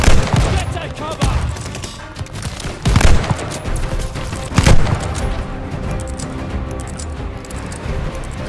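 Heavy gunfire in the PS5 game Operation Phoenix: loud, dense bursts of shots and booms in a chaotic firefight, with several strong volleys amid continuous battle noise.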